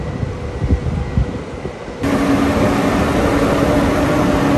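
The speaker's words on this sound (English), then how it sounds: "This is Austrian train." Austrian OBB train near Salzburg, a steady broadband rumble and rush that starts softer and swells louder after about two seconds, with a faint steady whine running beneath.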